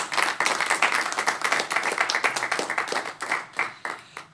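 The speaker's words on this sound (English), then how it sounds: "Let's get one more round of applause for all of our presenters today." Audience at a hurricane research event claps for the presenters, with a moderately sized group producing distinct, rhythmic handclaps close by. The clapping stays steady and thins slightly toward the end.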